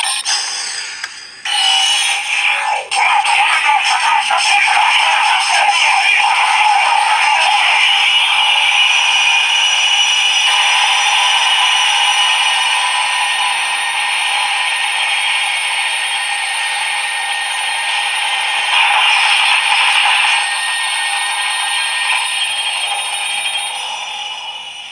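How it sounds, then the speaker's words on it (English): The scanning charge effect from a CSM OOO Driver toy belt from Kamen Rider OOO plays as a long, loud, sustained electronic tone, steady and bright for about twenty seconds, with a short surge near the end and no talking. "So that considerably long scanning charge sound was to replicate the scene"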